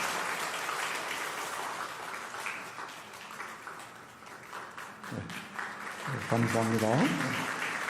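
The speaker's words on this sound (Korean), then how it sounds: "박수로 한번 힘차게 축복해 주시기 바랍니다." Applause from a Presbyterian church congregation at a Sunday worship service, welcoming a new family, fades under talk as a voice speaks over the room.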